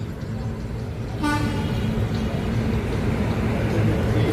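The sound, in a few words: train locomotive horn at Thiruvananthapuram Central station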